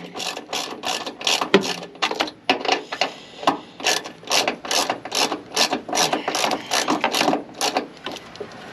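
A ratchet wrench tightens a bolt during an Edelbrock Pro-Flow 4 fuel injection system install, giving close, steady bursts of rapid clicking strokes that repeat throughout with no talking.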